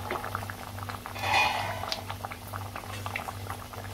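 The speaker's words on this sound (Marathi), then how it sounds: "चांगलं उकळते कालवण आपलं।" Raw mango and prawn curry with potatoes at a steady boil in a pot, bubbling and popping close up with a soft continuous seethe and no voices.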